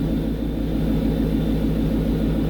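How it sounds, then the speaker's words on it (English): A Shelby Mustang GT500 engine runs at a steady warm idle, a loud, deep, throbbing rumble that stays constant throughout with no talk. "Now that the engine has ran and come up to temperature just slightly"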